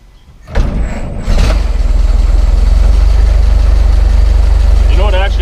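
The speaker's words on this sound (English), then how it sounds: "we'll go ahead and start it, and I'm going to turn it on" A 1926 Ford Model T engine kicks over, catches and settles into a loud, steady idle with a low rumbling chug that carries on to the end.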